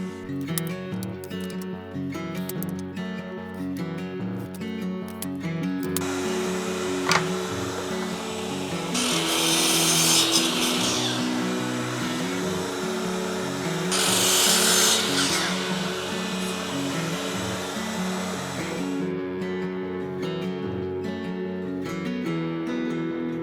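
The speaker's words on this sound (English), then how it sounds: "So off to the miter saw." Miter saw cutting thin wood strips for a herringbone sign, a continuous motor whine with two louder bright cutting passes in the middle, moderately close and without speech.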